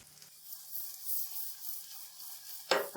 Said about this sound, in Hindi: अब ये सारे मसाले हम भून लेंगे।